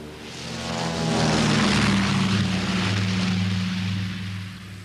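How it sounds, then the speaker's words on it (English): Steady, loud drone of a Consolidated Catalina flying boat's propeller engines, swelling slightly then easing, with a continuous low throbbing hum and broad noisy roar and no voices. "But the noisy Catalina was not best suited to clandestine operations."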